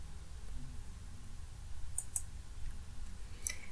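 A couple of faint computer mouse clicks, two quick ones close together then another softer one, over a quiet room hum.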